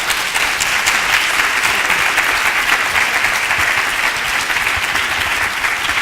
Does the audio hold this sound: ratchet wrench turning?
no